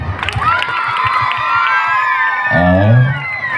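Loud crowd cheering and clapping at a school event in Tipaturu honoring the school and Rudramuni Swamiji, with children shouting and whooping throughout, swelling near the end.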